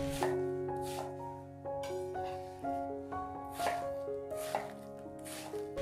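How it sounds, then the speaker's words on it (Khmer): A knife chops vegetables and pear for kimchi paste on a board, giving a series of crisp, close chops spaced every second or so over soft background music. "យើងត្រូវហាន់បន្លែខ្លះៗដើម្បីយកទៅកិនធ្វើជាគ្រឿងគីមឈី"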